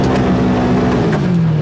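Kawasaki KRX4 1000 UTV engine under full throttle, a loud, steady drone holding close and continuous throughout, with no talk over it.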